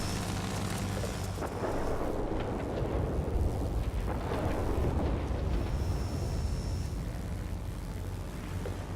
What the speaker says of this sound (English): Under AA fire